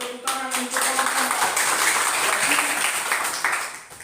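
An audience claps for a group after their presentation, a burst of scattered hand-clapping in a room that swells, holds for a few seconds and tapers off, with some voices mixed in.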